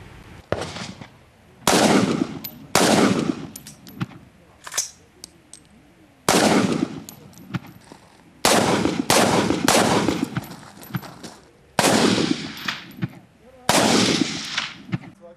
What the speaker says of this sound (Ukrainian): Учасники змагань стріляють з карабінів.